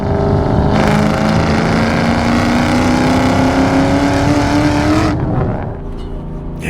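A 2004 Ford Mustang Mach 1 with a 4.6 V8 and five-speed manual drones loudly under way with the engine note rising steadily, then the throttle lifts near the end and the roar drops off.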